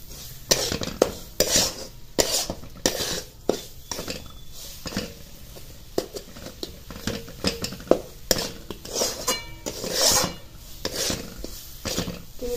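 Spice paste with coarse roasted flour being sautéed in a pan for Nagar Pathardi-style shingori amti, heard as repeated scraping and rasping strokes of a spoon against the pan, with light clinks, close and steady throughout.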